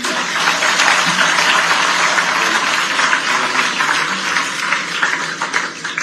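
A large audience at the Chief Minister's residence applauds for Kranti, dense, loud clapping that holds steady throughout, with no voices standing out.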